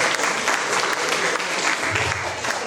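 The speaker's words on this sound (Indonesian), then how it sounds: "tepuk tangan dulu untuk Ibu Adini" A teachers' seminar audience gives brisk, dense applause, steady and close, filling the room without a break.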